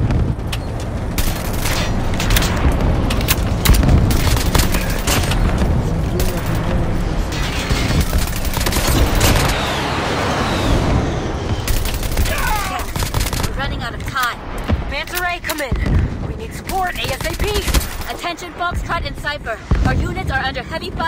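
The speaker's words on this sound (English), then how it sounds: "Our units are under heavy fire and need your support." Heavy gunfire in a sci-fi video game battle, with dense rapid fusillades, automatic bursts and booming impacts rolling continuously, while voices speak over the combat.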